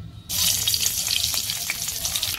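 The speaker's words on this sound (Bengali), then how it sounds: "শুকনো লঙ্কা সরষে ফোড়ন দিয়ে দিচ্ছি।" Dry chillies and mustard seeds hit hot oil with a sudden loud sizzle that crackles and spits steadily from close by.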